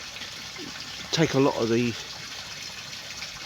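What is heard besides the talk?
water flowing from pipe into pond filter, bypassing shower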